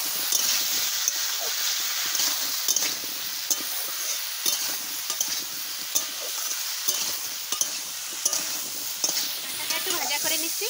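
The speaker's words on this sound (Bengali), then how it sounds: "হলুদ, লবণ দিয়ে একটু কষাই দিই।" Jackfruit frying in a pan with turmeric and salt, a continuous close sizzle broken by frequent scraping stirs and occasional light clinks.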